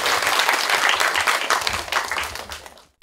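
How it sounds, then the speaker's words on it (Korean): Audience at a short film screening in Daegu breaking into loud, dense applause that carries on for about three seconds and then stops abruptly. "많은 박수 쳐주셨으면 좋겠습니다"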